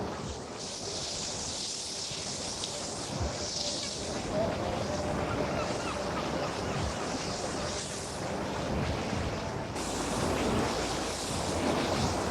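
Sea water washing in beneath Central Pier in Blackpool, a steady broad rush of surf under strong wind noise, continuous and fairly loud throughout.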